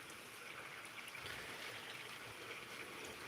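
Water pours steadily through the skimmer of a koi pond, a soft continuous trickling rush heard close and faint, with no talking.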